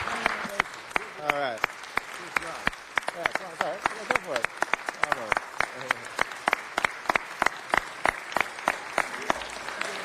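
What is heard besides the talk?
audience applause and standing ovation at a council meeting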